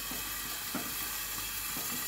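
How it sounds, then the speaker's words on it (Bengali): Mourala fish frying in a covered pan: a steady, even sizzle and hiss that runs the whole time, faint and close, with no voices. "মৌরলা মাছ ভাজা করবো। তো এটা ভাজা হতে থাক"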